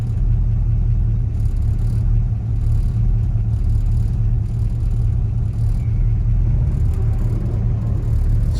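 Steady road traffic rolls past nearby on a busy street amid ongoing road construction, a continuous low rumble and whir of car engines and tires with no speech.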